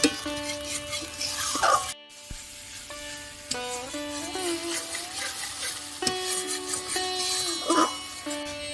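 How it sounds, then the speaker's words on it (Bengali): Fried onions and spices being sautéed in a pan for a katla fish kalia, with stirring and sizzling heard under prominent background music. "এবার সমস্ত মশলাগুলো আমি ভালো করে কষিয়ে নেব"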